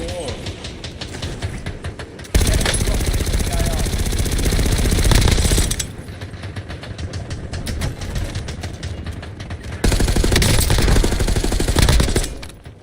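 Gunfire in a shooter video game, loud sustained automatic bursts in two long stretches with rapid rattling shots, separated by quieter game sounds, with talk and game announcer voice mixed in.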